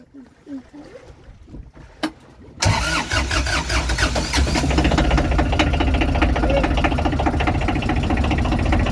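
Fishing boat engine bursts into life after some quiet knocks and a voice, then settles into a loud, close, steady chugging rattle that runs on without pause.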